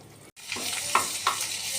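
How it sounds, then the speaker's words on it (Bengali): Chicken sizzling and frying in a pan with ginger and garlic paste, a steady hiss with two brief stirring scrapes partway through, close and moderately loud. "এরমভাবে চিকেনটাকে রোস্ট করে নেব।"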